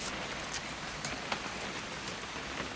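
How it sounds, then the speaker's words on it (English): Steady rain falls in the video game What Remains of Edith Finch, a soft, even hiss of drops with no voices over it. "It's gonna rain the whole weekend"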